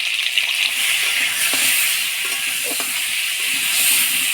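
Pointed gourd (potol) pieces, seasoned with turmeric and salt, frying in hot oil: a steady close-up sizzle with bright hiss, broken by a few soft clinks of stirring.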